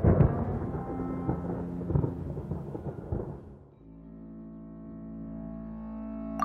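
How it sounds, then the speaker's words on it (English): Thunder rolls in the video game Genshin Impact: a loud, deep rumble with a few heavier cracks for about three and a half seconds, then a quieter sustained low drone as the storm fades. "Paimon hears thunder!"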